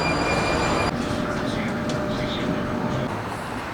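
A Prague tram sounds with a loud, steady rolling rumble and rattle close by, which shifts abruptly after the first second and then continues as a broad running noise.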